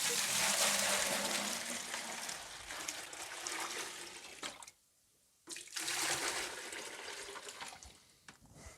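Water drains out of a container used to test a magnetic water pump, a close, hissing gush that briefly stops and then resumes before tapering off, with no talk.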